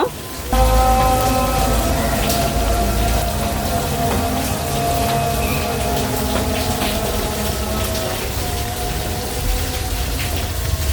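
Snacks made with beef offal deep frying in hot oil in a home kitchen, a loud, steady bubbling sizzle that fills the whole stretch without a break.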